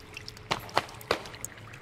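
Water in the Sons of the Forest video game, with soft trickling and three or four distinct drips or splashes spaced unevenly over a quiet, faint background.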